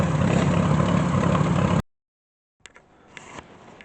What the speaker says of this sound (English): Put the other tractor back in here, and then we'll be all set.